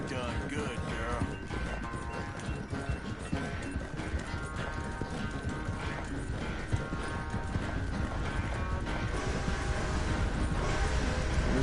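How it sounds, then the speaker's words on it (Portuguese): Horse hooves clip-clop in Red Dead Redemption 2 as a horse carries its rider on a mission. The footfalls are steady and continuous under music and character dialogue, with creaks of tack mixed in and faint mechanical clatter. "Eu escolhi um bom cavalo pra essa missão, né?"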